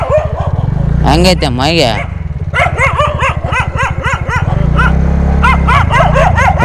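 Several dogs bark loudly in repeated bursts in a street, overlapping with someone speaking nearby and the hum of a motorcycle engine idling.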